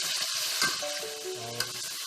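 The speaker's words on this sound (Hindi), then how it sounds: "फिर हम फ्राई कर लेंगे" Steady sizzling and crackling of food frying in about a cup of hot oil while cooking chicken malai handi, close by, with a couple of sharper pops and no voices.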